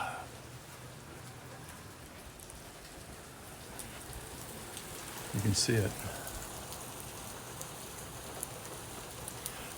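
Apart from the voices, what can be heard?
rain falling outside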